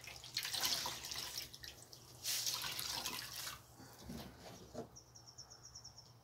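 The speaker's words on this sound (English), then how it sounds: "Here, rinse it in the water." A car-washing cloth is rinsed in water with soft splashing and dripping, quiet and close, followed by a faint high insect-like chirp.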